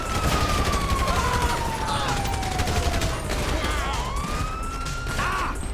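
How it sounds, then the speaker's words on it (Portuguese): A shootout with police in GTA V: a wailing siren sweeps up and down while rapid bursts of gunfire crackle steadily beneath it, loud and close. "Oh, começou o tiroteio."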